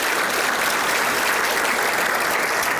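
A business audience at an economic forecast event gives sustained, even applause, a dense wash of many hands clapping close and loud without pause.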